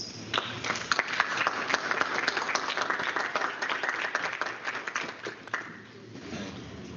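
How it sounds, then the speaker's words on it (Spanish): An audience at a legal lecture applauds loudly, a dense, steady patter of many hands clapping that holds for several seconds before tapering off. "para quien le damos muy fuertes aplausos"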